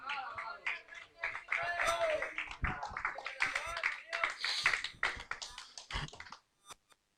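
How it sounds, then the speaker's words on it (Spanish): A church congregation claps during a sermon, irregular bursts of hand claps and taps of fluctuating loudness, fairly close, with voices mixed in, ending with a few isolated claps after a brief drop. "Dale un aplauso a Cristo."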